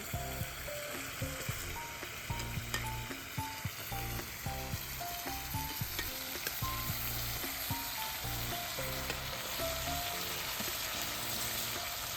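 Bottle gourd pieces tipped into a hot frying pan in a village kitchen, with a steady loud sizzle and clattering stirring scrapes throughout, no talking.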